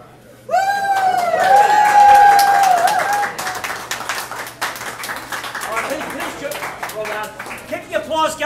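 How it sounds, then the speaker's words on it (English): A live audience claps and shouts at a lively kids' show, with bright voices and yelps riding over steady applause that swells early and then continues more raggedly. "Keep the applause going."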